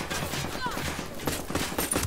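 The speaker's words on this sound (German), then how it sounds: "Ich nehme die Pferde unter Feuer." Rapid gunfire from the video game Ghost Recon Wildlands, shots aimed at horses, crackling in dense bursts through a busy in-game mix, with a voice briefly heard.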